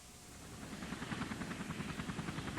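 Helicopter rotors thud in a rapid, steady beat that grows slightly louder, a distant airborne chopping over a soft wash of noise.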